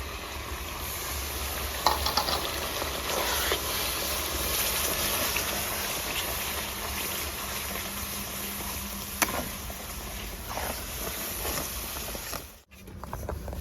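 Tomato paste frying in a pan for a chicken chickpea curry, a soft continuous sizzle with light patter and stirring scrapes, steady and close, briefly dropping out near the end.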